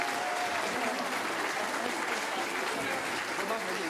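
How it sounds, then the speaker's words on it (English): A classroom audience applauds speech class students, a dense and even burst of clapping throughout. "You can clap for them."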